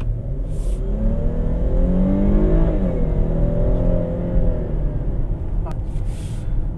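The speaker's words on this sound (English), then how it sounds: "So the engine has a nice sound." A 2015 Dodge Charger engine revs up and settles in a steady, close rumble, with rising and falling pitch through the middle and a brief sharp click near the end.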